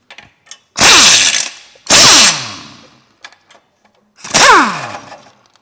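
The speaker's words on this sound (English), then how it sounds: "I want to take these exhaust nuts and bolts off here" Three loud bursts of an impact wrench removing exhaust nuts and bolts from a Chevrolet Cruze 1.4 engine, whirring and winding down each time, close by with pauses between.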